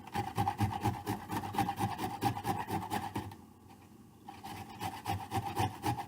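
Carrots are shredded on a grater in rapid rhythmic rasping strokes, close and clear, with a short pause midway before the scraping resumes.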